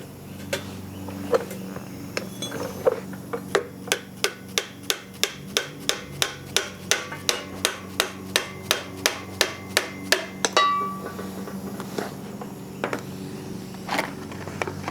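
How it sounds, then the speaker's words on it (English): An axle seal is hammered out of a Jeep CJ-5 rear axle in a garage, with around twenty sharp metallic hammer strikes in a fairly even rhythm, then a few scattered taps and scraping. "Let's go ahead and get this seal out of here."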